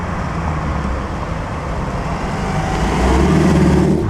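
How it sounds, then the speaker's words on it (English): An Aston Martin sports car on the road during the Mille Miglia, its engine rumble building steadily amid surrounding traffic noise and growing louder as it draws near. "Here's that Aston Martin that's driven by a couple of ladies"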